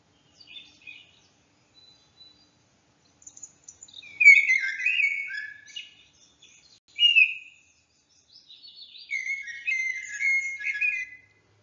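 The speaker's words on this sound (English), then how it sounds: "We can hear birds singing." Birds in a forest give clear whistled songs and chirps in scattered phrases, loud and near at times, separated by silent pauses, with no talk.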